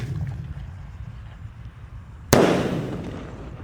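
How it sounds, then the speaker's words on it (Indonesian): A 4-inch Roman candle firework fires with one sharp loud bang partway through, followed by a decaying crackling hiss over quiet outdoor background. "Roman Candle ukuran 4 inci guys yang akan kita nyalakan"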